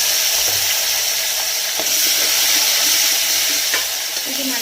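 Green chillies and peeled garlic cloves sautéing in oil, a loud, continuous frying hiss with a few soft stirring scrapes.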